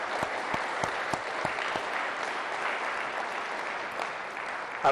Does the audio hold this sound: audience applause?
yes